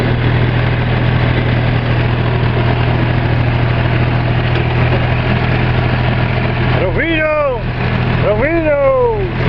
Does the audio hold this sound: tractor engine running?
yes